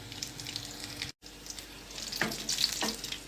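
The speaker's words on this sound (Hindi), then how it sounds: "अभी हल्की आंच पे क्रिस्पी हो रहे हैं" Potato fries crisp in oil over low heat, giving a steady soft sizzle close by, with a brief cut in the middle and a few faint clinks near the end; no talk.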